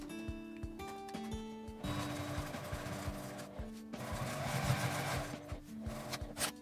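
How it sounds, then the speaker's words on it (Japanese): A sewing machine stitching across the stiff end of a zipper on a long wallet, fed by hand-turning the handwheel, gives slow, uneven mechanical clacks and whirring bursts, close and quiet. "ファスナーの端で硬いところは手で回し車を回してミシンを送ります。"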